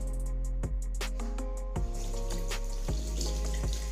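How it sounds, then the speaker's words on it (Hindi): Water runs from a tap into a sink for removing makeup with cotton, a steady splashing stream with background music layered over it throughout. "तो अब मैं पानी का यूज करूंगी ताकि ये सारा हट जाए कॉटन से।"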